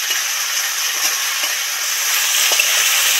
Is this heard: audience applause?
no